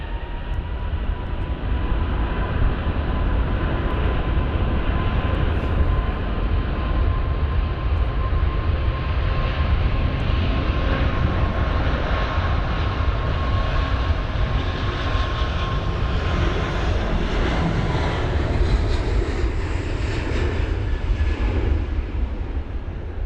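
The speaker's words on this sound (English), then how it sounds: "Talk about speedy rotation, just half of the runway being used for that Emirates A380's" Emirates A380 taking off from runway 27 right at London Heathrow in stormy weather, a loud, sustained engine roar holding steady throughout, with no talk.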